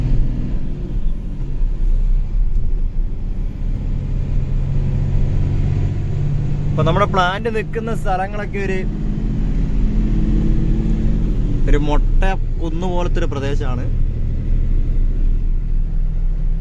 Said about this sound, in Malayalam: വണ്ടി ഓടിച്ചുകൊണ്ടിരിക്കുകയാണ് കേട്ടോ